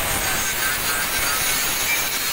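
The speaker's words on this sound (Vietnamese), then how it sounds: "Đây là con máy cưa hệ thống cấp" An automatic saw with a feed system cuts iron bars in an industrial workshop, giving a steady, dense grinding rasp that holds without pause.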